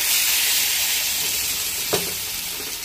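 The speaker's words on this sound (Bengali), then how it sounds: "তো কারি পাতাটা একটু ভাজা হয়ে গেছে।" Curry leaves, black mustard seeds and green chilli fry in hot oil with a loud, continuous sizzle and hiss, broken near the end by one brief clink of stirring, with no voices.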